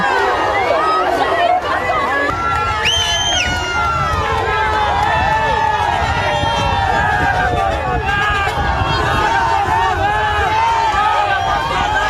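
A large outdoor crowd at a visit by Bolsonaro shouts and boos, a loud, continuous roar of mixed voices and chanting with individual cries rising above the babble.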